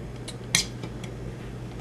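Excess polymer clay trimmed away from a brown triangle with a blade, giving a single brief scrape near the middle over quiet room tone.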